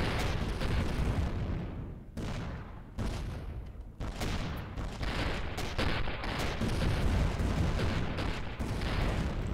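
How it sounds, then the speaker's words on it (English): Iron mining turret in the space game Avorion firing continuously at asteroid material, a dense, loud barrage of rapid impacts and bursts with brief dips, no talking. "this little iron mining turret's just destroying that stuff easily"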